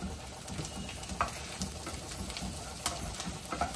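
Garlic frying in hot oil for tomato pickle, a faint continuous sizzle with a few soft pops and stirring clinks.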